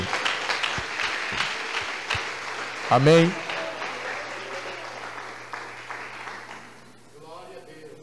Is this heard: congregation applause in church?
yes